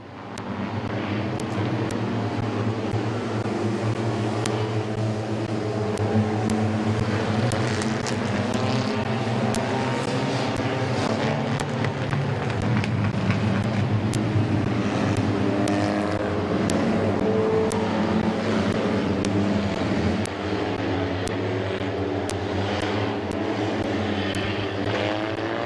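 Race cars circle a speedway at Midvale, a steady, broad engine roar from the pack carrying throughout at moderate distance without a clear break.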